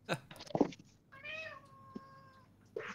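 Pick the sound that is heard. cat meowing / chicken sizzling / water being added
cat meowing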